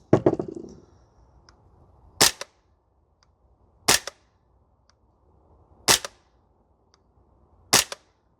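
An Archwick APC9K PRO gas blowback airsoft rifle fires four sharp single shots on a range, spaced about two seconds apart, each a crisp crack with a short metallic clack.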